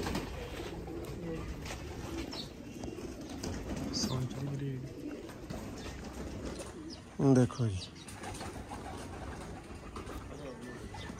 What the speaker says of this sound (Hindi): दोस्तों नायाब कबूतर